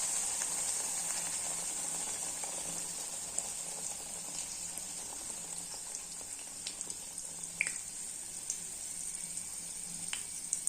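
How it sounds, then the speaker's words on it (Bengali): Luchi deep-frying in hot white oil in a kadai, a faint, steady hissing sizzle with occasional small pops throughout. "লুচিগুলি বেলা হয়ে গেছে, এখন একটু ভেজে নেব।"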